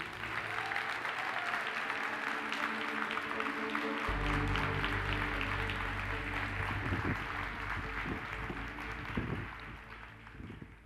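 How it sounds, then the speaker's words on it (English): Welcoming applause for David Suzuki at a summit opening ceremony, a broad, steady wash of clapping from a large audience lasting around eleven seconds, with a low hum underneath and the clapping thinning toward the end. "round of applause for Mr."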